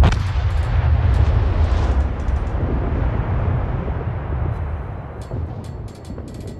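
A volley of heavy guns booms from the battleship USS North Carolina BB-55 in World of Warships, then a long rumbling roar fades slowly with faint clicks behind it.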